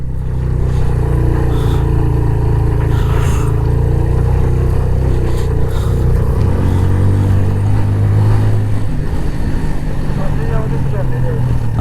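A car's engine drones steadily as it climbs uphill after a clutch adjustment, a continuous low hum running underneath people talking throughout.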